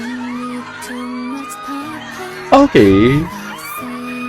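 A burst of audience screaming and whooping rises sharply for under a second at a live show featuring two celebrities, over background music and a person talking close by.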